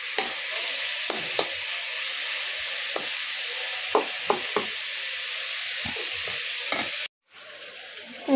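Eggs and onion fry with a steady broadband sizzle in a pan, while a utensil scrapes and knocks in scattered short strokes; near the end the sizzle cuts out abruptly, as if the stove is switched off.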